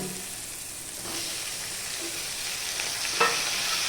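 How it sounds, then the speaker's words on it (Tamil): Tomatoes, onion, green chilies and curry leaves fry in hot oil for a potato masala, giving a steady close sizzle with occasional scrapes of a stirring spoon. "போட்டு கொஞ்சம் நல்லா செவுக்கணும் தக்காளி வெங்காயம் பச்சை மிளகா கருவேப்பிலை"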